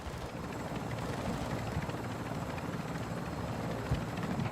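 Helicopter rotor chop and engine drone in the shooter game Call of Duty DMZ, a steady dense thrum holding at even loudness throughout with no pauses.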